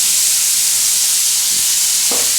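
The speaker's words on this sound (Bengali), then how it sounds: "এবার এই পেঁয়াজটা একদিকে একটু ভাজা হবে, এদিকে একটু ভাজতে দিতে হবে" Onions for a Barisal-style hilsa dish fry in a pan with a loud, steady, broadband sizzle and a couple of soft stirring knocks near the end. Nobody talks.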